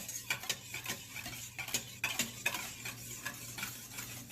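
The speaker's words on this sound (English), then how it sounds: "Keep whisking until everything is mixed." Cinnamon roll dough ingredients with flour, salt and other ingredients being whisked in a bowl, a rapid steady run of clinking, scraping strokes, close and fairly quiet with no talking.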